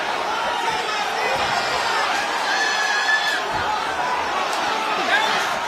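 Boxing arena crowd rising from their seats, a dense, steady wash of cheering and excited chatter that fills the whole stretch without a clear peak.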